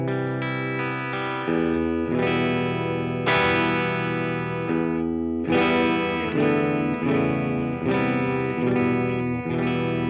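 An electric guitar through a Boss Katana's Deluxe Crunch model of a 60s Fender Deluxe Reverb, with a lightly crunchy tone, plays sustained chords and ringing notes, each strum blooming and decaying, with no talking.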